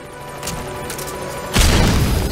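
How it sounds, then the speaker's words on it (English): Stun grenade going off in the stealth video game Metal Gear Solid V: The Phantom Pain, a loud sudden boom that swells out of a steady game background and lingers for about a second. "We'll go ahead and use a stun grenade to take him out."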